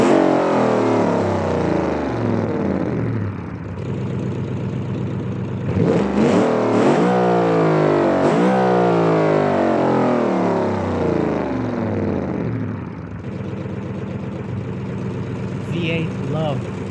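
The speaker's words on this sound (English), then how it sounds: "Yes, straight cut gears sounds amazing." A racing-game car with straight-cut gears revs hard and continuously up close, its whining engine note rising and falling through repeated gear changes, with a steady drone between pulls.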